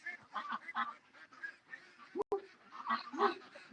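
Ducks calling back to a barking dog named Doug, a run of honking, quacking calls near and fairly loud, rising and falling in bursts with a brief sharp break midway.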